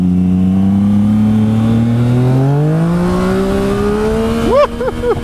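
A two-stroke vehicle revs up for a wheelie, its engine climbing in pitch in a loud, close, sustained whine, then spiking sharply in quick bursts near the end.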